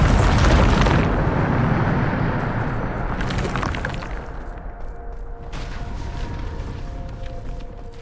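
A Bombarda spell explodes in Hogwarts Legacy with a loud close blast that rumbles and crumbles away, followed by a second, smaller crackling burst and a fading, debris-like tail.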